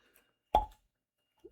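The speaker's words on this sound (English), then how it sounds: "Nice cork pop." A cork pulled from a wax-sealed Evan Williams America 250 bourbon bottle gives one short hollow pop, close and fairly quiet, followed by a faint small sound in near silence.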